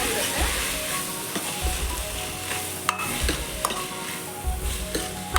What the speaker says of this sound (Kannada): ಹಸಿ ವಾಸನೆ ಹೋಗೋ ತನಕ ಫ್ರೈ ಮಾಡ್ಕೋಬೇಕು.